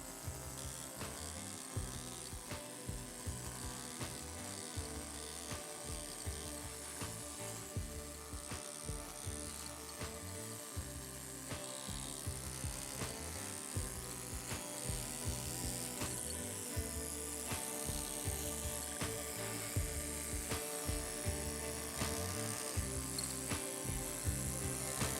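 A chisel cuts into a stone gothic beast carving, giving a quiet, steady run of rapid tapping and scraping strikes with an irregular rhythm, close by and with no voices.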